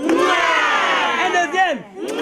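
A crowd of children and adults at a Gabon orphanage thanksgiving celebration cheers and acclaims loudly and continuously, a dense chorus of raised voices shouting together up close for about two seconds.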